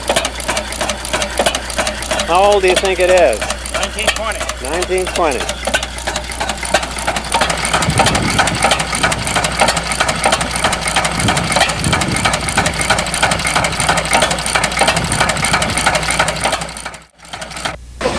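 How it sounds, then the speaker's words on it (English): A small one-cylinder gas engine on a caboose chugs in a steady, rapid rhythm close by, with people talking over it and a brief lull near the end. "A one-lunger gas engine."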